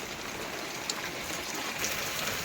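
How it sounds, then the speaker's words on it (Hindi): Heavy rain pours in the mountains near Kartik Swami temple, a steady, even hiss that fills the whole stretch without breaks or other sounds. "कार्तिक स्वामी टेम्पल साइड कितनी तेज बारिश लग गई है"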